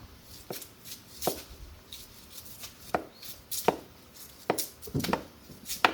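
Wild yam (kloy) is chopped for cooking with a knife on a board, sharp distinct cuts falling in an irregular rhythm of about a dozen strikes, close and clear with light handling noise between.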